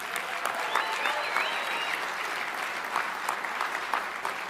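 Crowd applause at a Texas policy summit in Austin, a steady wash of clapping with a few whistles and shouts rising above it, fairly close and continuous.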